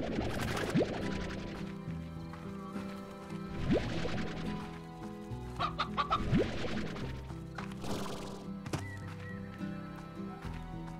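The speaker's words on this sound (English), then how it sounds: "Gonna go collect more chickens." Chickens cluck repeatedly in the video game Slime Rancher, in several bursts spread across the stretch, mixed with other game sound effects and a light musical backdrop, with no voices.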